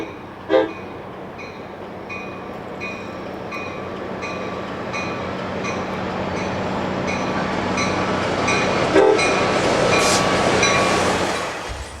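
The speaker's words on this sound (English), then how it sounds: "After crossing under Interstate 580, the train descends into Livermore" An ACE commuter train rolls down into Livermore after passing under Interstate 580, its steady rumble of wheels and cars building gradually with a brief horn-like burst early on and a sharper clank near the end.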